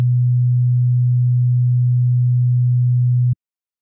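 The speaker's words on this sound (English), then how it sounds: "Here is what a sine wave looks and sounds like." A miniature oscilloscope sounds a pure sine wave tone, a steady low hum held evenly for about three seconds before cutting off abruptly into silence.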